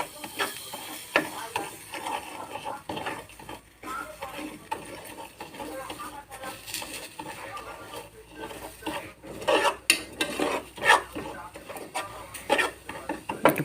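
A spoon stirs tea leaves and sugar in a pot, making irregular clinks and scrapes against the metal at close range.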